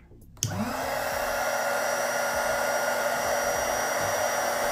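A Truper PISCA-AM 350 watt heat gun clicks on, then its fan rises into a steady, loud blowing whine that holds evenly at close range with no talking.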